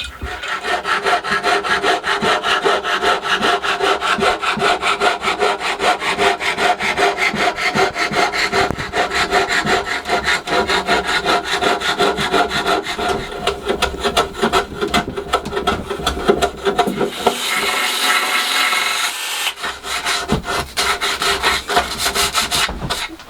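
Saw cutting through 80/40 aluminium extrusion side rails in a small workshop, a steady, loud rasping stroke that runs continuously, with a brief brighter, harsher stretch near the end.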